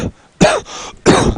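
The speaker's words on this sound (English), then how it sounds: "I'm battling a cough" Two sharp coughs, about half a second apart, from a sports broadcaster calling a Midwest City high school football game; loud and close to the microphone, with a quiet gap between them and no talk over them.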